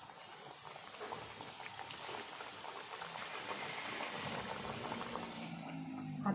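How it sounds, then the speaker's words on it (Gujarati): Muthiya dumplings deep-fry in hot oil, giving a faint, steady bubbling and crackling that holds level throughout with no voices. "બધા મુઠિયાને આપણે તળી લઈએ"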